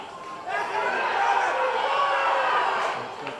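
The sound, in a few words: football crowd getting into the match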